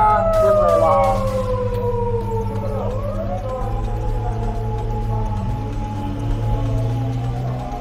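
A police car siren wails loudly nearby with a sweeping, howling tone, then fades into a steady engine drone with no speech.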